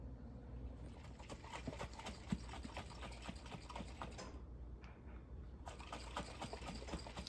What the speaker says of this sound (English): I'm going to put the lid on this and I'm going to shake it very vigorously.